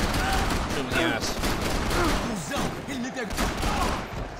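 Rapid bursts of gunfire from the video game Max Payne 3 crackle through the clip in quick volleys, steady and loud, with someone talking over the shooting.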